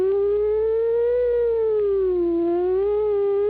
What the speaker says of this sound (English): approaching and receding siren.